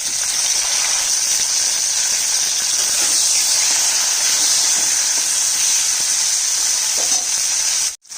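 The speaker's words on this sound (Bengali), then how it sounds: "আলু করলাটা ভাজা হয়ে গেছে" Potato and bitter gourd frying in hot oil give a loud, steady sizzle and hiss that runs on without a break, then cuts out briefly near the end.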